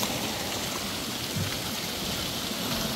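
Water splashes steadily in a fountain, a constant hiss and patter of falling water filling the whole stretch evenly, with no talking over it.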